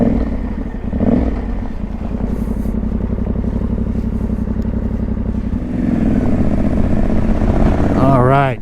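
A motorcycle rides along back roads through fine silt toward a state park in West Texas, its engine droning steadily and close, with a slight surge partway through and a short whistle-like sweep near the end.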